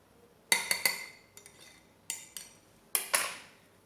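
A utensil mixing icing in a bowl, close metallic clinks and scrapes against the bowl in short bursts, several quick knocks separated by pauses.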